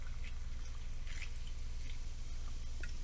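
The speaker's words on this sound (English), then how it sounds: "So I'm going to go ahead and pour it in here." Alcoholic drink that looks like an orange soda being poured into a glass, a soft steady trickle with faint drips and bubbly splashes, alone and close.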